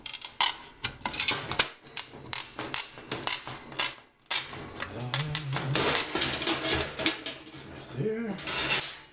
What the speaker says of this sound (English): cut this out with the snips just like I did the side of the pot